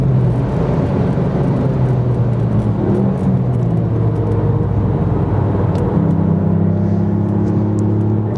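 A brand new Ferrari 488 race car drives on a circuit, its engine a loud, continuous droning whir with shifting pitch, heard close and steady throughout.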